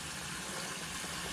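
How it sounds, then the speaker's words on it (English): Kitchen tap water running at low flow into a sink while cooking gumbo, a steady soft rushing hiss with no talk. "turn the water on a little bit because these are warm still."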